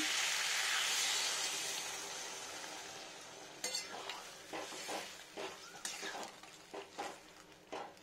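Water goes into a pan of sizzling vegetable curry with tomato, pointed gourd and potato, so the loud hiss fades, followed by a few close scraping stirs and spoon clinks against the pan. No one speaks.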